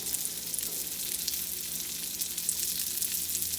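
Parmesan crust omelette frying in butter and melted cheese oil in a pan over lowered heat, a close, even crackling sizzle that carries steadily throughout with no voices.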